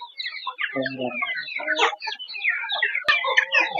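Native country chickens clucking and calling in a busy, overlapping chorus, close by on an integrated farm, with a brief sharp noise near the end.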